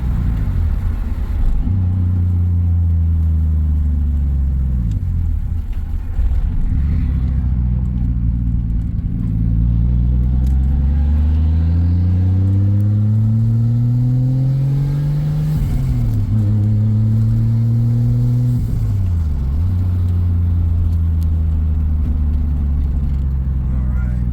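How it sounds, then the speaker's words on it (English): A turbocharged Mk3 car engine drones steadily, its pitch climbing through gears in repeated sweeps, with a loud rumbling turbo whine throughout and no talking. "Turbo's loud."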